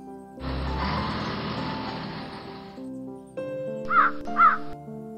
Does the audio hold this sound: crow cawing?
yes